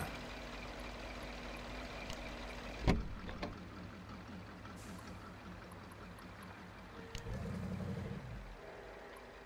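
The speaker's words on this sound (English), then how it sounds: "Why left that engine on?" A truck engine left idling in Spintires MudRunner at Grizzly Creek, a low steady rumble throughout with a sharp hiss or knock early on and a rougher pulsing surge near the end, no voices.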